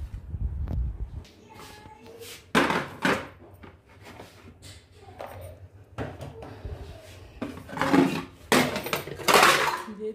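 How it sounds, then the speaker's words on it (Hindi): Dishes and utensils being put away in a home kitchen: scattered clinks, clatters and knocks of pots, plates and cutlery, with a cupboard or drawer thudding, fairly close and intermittent over quiet room tone. "और अभी मैं बर्तन रखने जा रही हूँ किचन में।"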